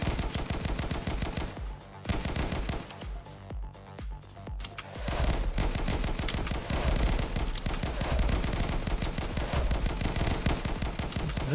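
Loud rapid bursts of gunfire from a video game shooter during a playtest, with a brief sparser stretch before the shots resume as near, continuous machine-gun fire.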